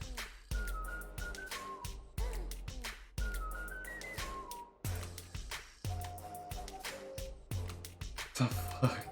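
A bright whistled melody repeats in short phrases over a rhythmic, punchy musical beat with steady percussion.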